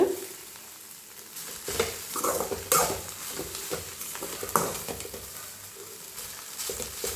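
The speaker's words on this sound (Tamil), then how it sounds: "இப்போ நான் மூணு முட்டை உடச்சி ஊற்றிருக்கேன் மூணு முட்டை போட்டிருக்கேன்" Eggs and drumstick leaves crackle and sizzle in a hot pan for an egg poriyal, with steady frying hiss broken by scraping and tapping strokes as the mixture is stirred up close.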